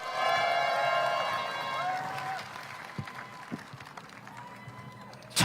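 Crowd applause and cheering at a political campaign rally in Siheung, Gyeonggi, loud and dense with tonal music at the start, then thinning into scattered claps.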